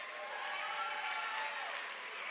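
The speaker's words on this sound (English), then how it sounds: "Give yourselves another round of applause." An audience at a charity dance gala applauds in a steady, even wash of clapping. The sound is fairly soft and distant and holds without a break.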